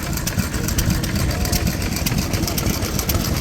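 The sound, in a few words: 3 horsepower Donaldson Tippett engine running a big pump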